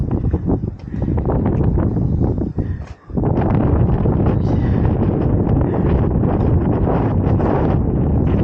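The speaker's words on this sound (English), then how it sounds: "So windy." Strong Santa Ana wind roars through a canyon, battering the microphone in loud continuous gusts with one brief lull partway through.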